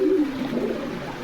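Pigeons in a loft give a low, rolling coo, close and steady through a little over a second.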